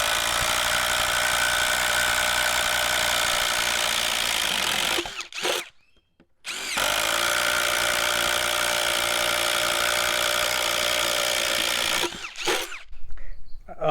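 Ryobi P239 brushless impact driver running on an older 3 Ah battery drives two holes, each a long steady high whine of about five seconds separated by a short quiet gap, loud and close with no talking.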